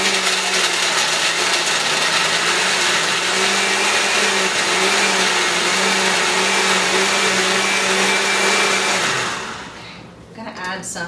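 A blender grinds chard for a raw vegan lasagna in a loud, steady whir that runs continuously for several seconds, then winds down and stops near the end.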